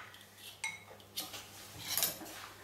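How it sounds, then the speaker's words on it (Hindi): A metal spoon mixing masala into chopped onion for stuffed eggplant curry, with a few scattered clinks and scrapes against the pan, close and fairly quiet. "इसमें मसाला मिक्स करते हैं"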